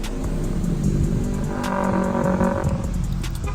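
A motorcycle passes nearby with a rising and falling engine roar that swells in the middle and then recedes.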